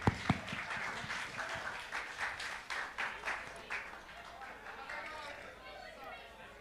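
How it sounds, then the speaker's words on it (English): Audience at a drag race viewing party in a bar breaking into applause that tails off, sharp claps at first then a softer patter under crowd chatter, rather faint overall. "round of applause for that"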